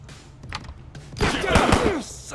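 Shots in the top-down police shooter Police Stories: quiet game noise, then a rapid cluster of several loud gunshots near the end, with echoing decays.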